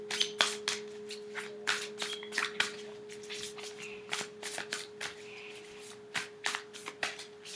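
Tarot cards being shuffled by hand, a series of close, papery riffles and slaps in irregular bursts over a faint steady electrical hum, with no talk.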